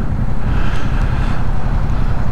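Steady, loud wind rush buffets the microphone while riding a small Yamaha MT-07 motorcycle (2024 model), with a low engine rumble underneath, continuous and unbroken with no talking.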